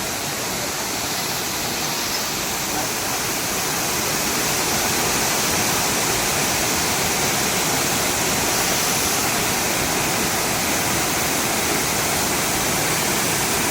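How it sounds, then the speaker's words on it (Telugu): Athirappilly waterfalls in Kerala roar continuously, a loud, broad, unbroken rush of falling water heard from nearby with no voices. "వాటర్ ఫాల్స్ లాగా ఉన్నాయి"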